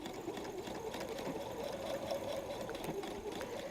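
Sewing machine running a steady straight stitch through faux suede at 2.5 stitch length, center needle position, for a messenger bag; a continuous close, even mechanical whir with a fast rhythmic chatter throughout.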